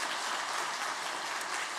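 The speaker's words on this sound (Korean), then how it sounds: "다음 세대 아이들을 향해서 한번 박수로 한번 격려를 하겠습니다." Sustained applause from a church congregation gathered for a Wednesday prayer service, a steady dense patter of many hands clapping at once, fairly close and alone with no talk over it.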